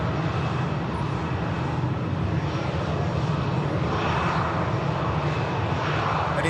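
An EasyJet airliner taxiing at Manchester Airport gives a steady, close jet-engine rumble with a broad whine that holds evenly throughout, with no voices.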